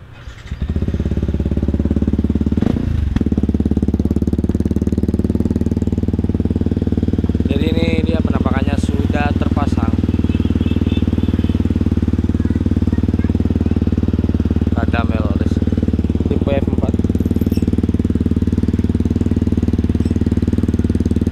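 A Yamaha WR motorcycle engine with a new Radamel F4-1 exhaust idles with a deep, steady thump, briefly revved once, while someone talks over it.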